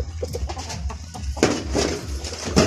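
Chickens cluck and call outdoors near a garden of bonsai and orchids, with several short clucking bursts at moderate distance over low background rumble and other faint bird sounds.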